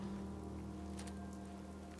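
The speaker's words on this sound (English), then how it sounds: "It's raining like hell." Steady rain in the video game Fallout 4, a continuous even hiss of falling drops with a low background drone, unbroken and alone throughout.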